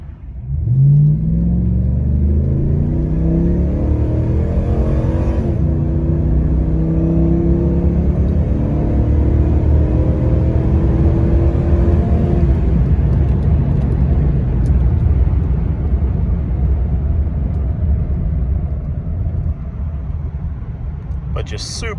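A 2005 Dodge Ram 1500 Daytona 4x4 pickup engine revs up through several gear changes, the pitch climbing and dropping each shift, then settling into a steady loud rumble.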